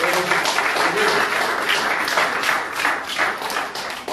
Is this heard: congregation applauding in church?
yes